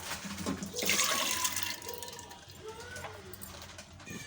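Soaked chana dal and toor dal are tipped with their soaking water into a pressure cooker, producing a brief close splash and pour that fades into softer trickling and sloshing.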